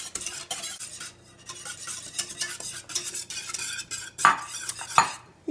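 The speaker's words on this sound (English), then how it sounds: "I want to add this really slowly and whisk as you go" A whisk scrapes and clinks rhythmically through coconut cream pie filling in a pot. The close, quick metallic strokes come in uneven bursts, with a couple of louder clacks near the end and no speech.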